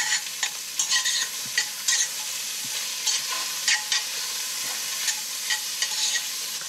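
Garlic and onion sizzle in hot fat for a braised cabbage dish with port and maple syrup, with a steady frying hiss broken by repeated scraping stir strokes, close and fairly loud, with no voices.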